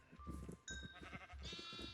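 Sheep bleating in a farming video game, several short wavering calls in quick succession, fairly clear and close with ambient game background underneath.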